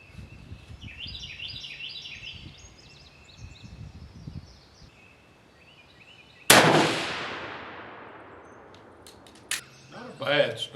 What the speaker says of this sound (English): let's get to shooting and see what we get from these 130 grainers